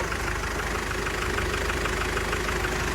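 A steady, low diesel engine idles close by in a FAW Tiger VR truck with the cab raised, a continuous rumble with a faint regular knock and no voices.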